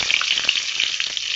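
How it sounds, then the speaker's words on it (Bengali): Whole cardamom and bay leaves sizzle in hot oil, a loud, dense, close crackling hiss with tiny pops throughout, alone without talk. "গরম হয়ে গেছে, দিয়ে দিচ্ছি গোটা এলাচ, তেজপাতা"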